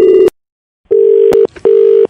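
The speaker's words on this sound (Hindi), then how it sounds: "फोन काट दिया" A telephone dial tone sounds after a call is hung up, loud steady beeps in an uneven pattern with short gaps between them and no talking over it.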